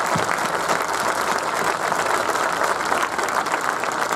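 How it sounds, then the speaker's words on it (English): Steady applause from a crowd at a nursing pinning ceremony fills the whole stretch, even and sustained without breaks. "let's give all of our nurses a round of applause."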